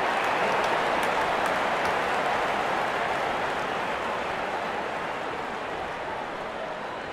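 A stadium crowd applauds in the cricket video game Real Cricket 22 during a New Zealand vs West Indies T20 World Cup match. Steady, dense clapping fills the stretch, easing slightly toward the end, with no talk.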